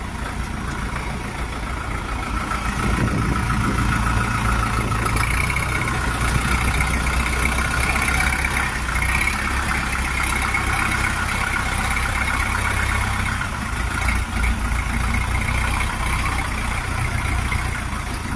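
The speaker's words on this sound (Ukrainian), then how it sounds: "Він собі тракторця тестує, перевіряє" A Jinma 404 tractor with forced hydraulics idles during testing, a steady low mechanical hum that holds constant and close for the whole stretch without speech.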